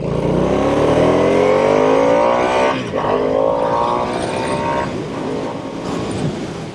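A Harley-Davidson Nightster Special motorcycle accelerates hard with traction control off, its engine revving up loud and near through rising gears, with a brief shift break before the pull eases.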